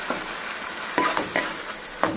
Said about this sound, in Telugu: కొత్తిమీర పేస్ట్ ఇందులో వేసుకుని పచ్చివాసన లేకుండా బాగా దోరగా వేయించుకోండి